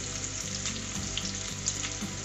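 A medium onion, sliced very thin, frying in hot oil with whole spices, giving a loud, close, continuous sizzle with a few soft stirring scrapes and no voices.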